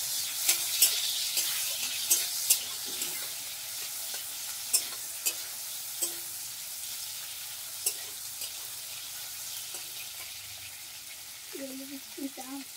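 Prawns frying in a wok with periodic stirring, a steady soft sizzle underneath and sharp scrape ticks from the spatula every second or so, at close range with no talk.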